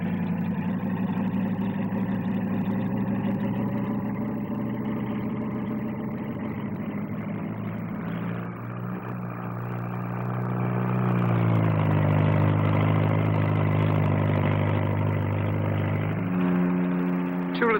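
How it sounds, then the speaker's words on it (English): A Bristol 192 helicopter lands at the 1958 Farnborough air display: a steady, heavy rotor-engine drone with a deep harmonic hum that shifts pitch as it settles, loud and close, no voices. "The Bristol 192, shown here landing"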